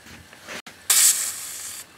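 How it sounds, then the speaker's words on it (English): A Wilesco D6 model steam engine building up steam, a soft hiss that briefly cuts out, then a louder burst of steam venting before settling back to a lower, steady hiss. "And it's starting to build a little steam up."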